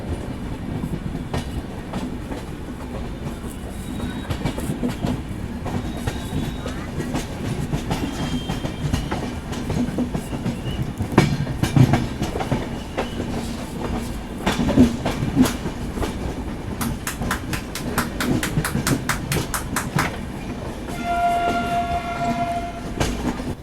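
A train running on the Howrah–Chennai main line near Vizianagaram Junction in Odisha, with a steady rumble and rhythmic clickety-clack of wheels over rail joints, a horn sounding near the end.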